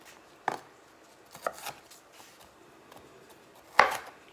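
A knife strikes a cutting board in a home kitchen, giving a few separate sharp knocks with quiet gaps between them, the last hit the loudest.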